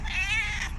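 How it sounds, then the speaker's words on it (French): A cat gives a single drawn-out, insistent meow close by, rising then falling, with no speech over it. "Pourquoi tu me miaules dessus?"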